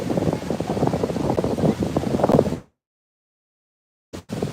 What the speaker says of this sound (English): it is getting violently windy out here